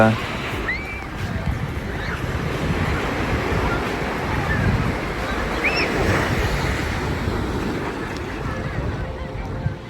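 Sea surf rolls in steadily off Tenerife, a continuous loud wash of waves mixed with gusty wind buffeting the microphone, with no clear breaks.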